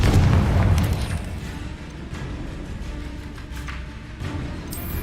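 Confringo spell explosions in Hogwarts Legacy, a boomy burst up front followed by a dense, rumbling wash of blasts and crackling effects that holds steady throughout.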